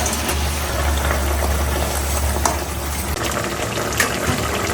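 Water poured into a spicy fish curry cooking in a pan: a loud, continuous close gush and bubbling hiss over a low rumbling background, unbroken for several seconds with no talking.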